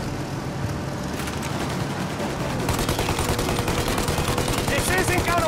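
Gunfire in the Mafia video game aimed at a plane's engines, a dense continuous burst of shots filling the whole stretch and growing louder and busier partway through, with engine noise underneath.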